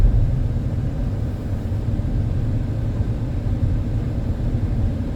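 A 2015 Hyundai Sonata driving smoothly, giving a steady low road rumble and engine drone heard from inside the car, even and unbroken with no voices.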